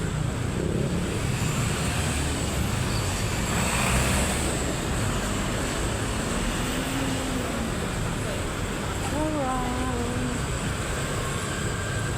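Rush-hour road traffic at night hums as a steady broadband wash of passing vehicles, with tonal whines and a few rising engine or horn-like tones toward the end, fairly distant and continuous.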